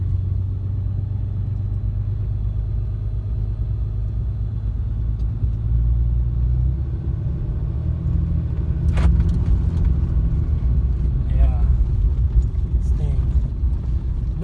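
A 2015 RAM 2500 four-wheel-drive pickup with a Cummins diesel idles with a deep, steady exhaust rumble close by for the whole stretch, a few faint metallic jingles and clicks toward the end.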